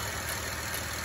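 A car engine idles loudly and close during an ignition coil test, a constant mid-low drone with a faint regular pulse and no voices over it.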